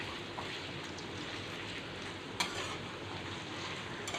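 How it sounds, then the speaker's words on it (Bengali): Chopped capsicum and onion cubes frying in spice masala for chilli paneer, a continuous soft sizzle with a faint stirring clink partway through, steady and close. "ওই মশলাটা ভাজা হয়ে গেলে আমি কিছুটা পরিমাণ ক্যাপসিকাম কুচি আর পেঁয়াজ কুচি দিয়ে দিচ্ছি।"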